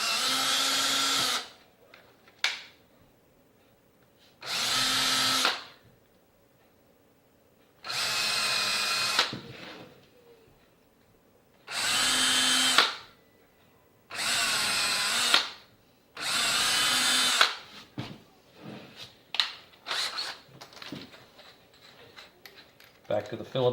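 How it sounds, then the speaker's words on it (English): A power drill bores pilot holes in wood for a wooden soap mold, with six loud, close whining bursts of a few seconds each separated by pauses, followed by lighter clicks and handling noises. "We'll drill our pilot holes"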